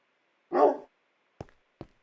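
A dog in the Minecraft video game gives one short, clear bark, followed by two quick, fainter yips, all close and isolated against silence.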